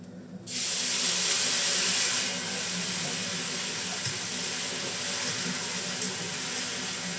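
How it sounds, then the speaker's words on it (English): A sudden loud hiss of rice balls (arancini) frying in a hot pan, crackling steadily and close, continuing without pause. "You can hear it sizzling away."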